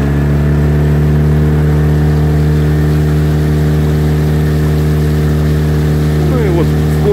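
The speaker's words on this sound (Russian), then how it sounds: "Сейчас вот я немножко добавлю газа, ну, не немножко, на полную." Outboard engine of a Sea Fisher 610 catamaran powering up to full throttle, a loud, steady droning hum with strong low harmonics running throughout, close and continuous.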